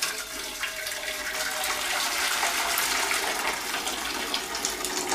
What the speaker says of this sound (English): I'm just going to add the veg water.